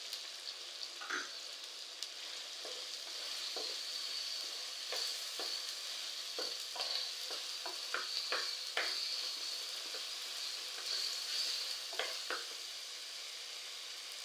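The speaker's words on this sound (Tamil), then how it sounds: "இப்போ வரமிளகாய் சேர்த்து நல்லா வதங்கிடுச்சு." Dried red chilies and curry leaves sauté in hot oil for a board beans curry, giving a steady, close hiss of frying with scattered small pops and crackles throughout.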